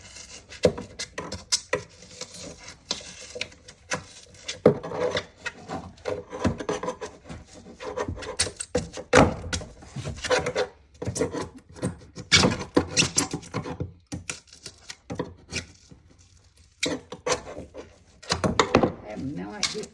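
Old nails being pulled out of wooden framing in a kitchen remodel ahead of new drywall, heard as close scraping, rubbing and rasping wood noises with irregular knocks and thunks coming in uneven bursts.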